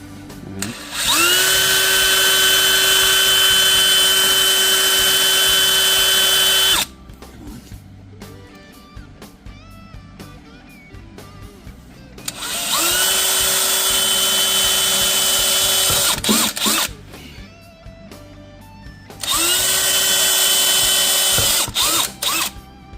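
A power drill whines loudly in three long bursts, drilling stud holes in the track of a Ski-Doo MXZ XRS 850 Turbo snowmobile, with short pauses between them filled by quieter clicks and rattling.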